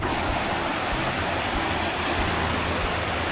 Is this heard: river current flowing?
yes